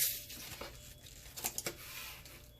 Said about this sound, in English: So we're just going to cut open this meat.